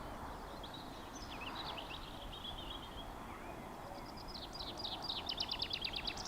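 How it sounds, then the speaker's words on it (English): Birdsong in the Scottish countryside along the Rob Roy Way near Loch Lubnaig, where cuckoos are calling; scattered high chirps drift in early, then a faster run of repeated calls builds near the end over steady, soft outdoor ambience. "And cuckoos everywhere."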